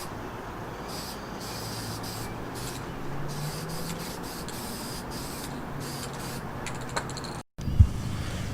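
Steady, loud aerosol spray hiss while painting a welded alternator bracket for an LT1 V8 S10, sustained blasts with brief breaks between passes and a short gap near the end.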